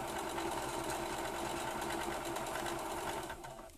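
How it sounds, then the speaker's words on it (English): A sewing machine stitching a face mask runs steadily with a rapid mechanical whir and clatter, close and alone, easing off slightly at the end. "just sew down the edges once pleated"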